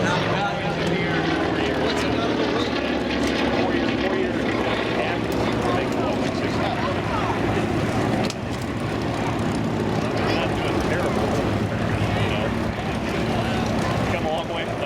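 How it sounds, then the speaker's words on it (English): A T-28 Trojan propeller aircraft flies past at the Oshkosh AirVenture airshow, a loud sustained engine drone throughout with an announcer talking over it. "T-28 Trojan passing out in front of you again."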